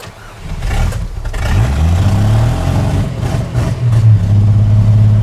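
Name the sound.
old car engine starting after popping the clutch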